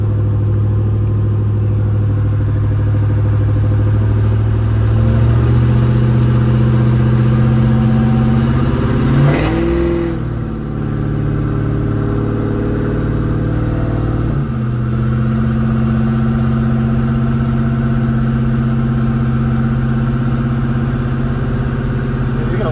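A 55 car engine runs loud and close on a dyno during tuning, holding a steady drone, swelling into a hard rev near the middle, then settling back to a constant roar.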